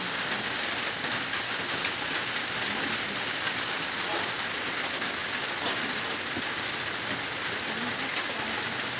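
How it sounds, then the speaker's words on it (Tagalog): Light rain falling over rice fields in the countryside, a steady soft hiss that holds evenly throughout with no talk. "Mahina pa lang guys, hindi pa masyadong malakas yung ulan."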